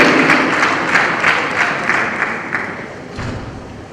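Loud audience applause at a launch event for an Edo state technical talent policy, a full crowd clapping steadily and close, slowly easing in intensity across the few seconds with a low thud near the end.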